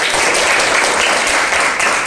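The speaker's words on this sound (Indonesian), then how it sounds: "Tepuk tangan." A class of students claps together, a loud, dense burst of hand clapping that continues steadily through the moment.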